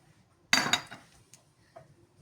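Eggplant kebab mixture being stirred in a pot: a sudden close clatter of a utensil against the pot, then softer scrapes and a few faint clinks fading out.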